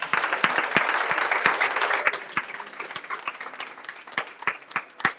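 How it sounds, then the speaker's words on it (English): Applause for a man at a gallery unveiling, a lively burst of close hand claps from a small crowd that thins into scattered, uneven claps toward the end. "Clap for him."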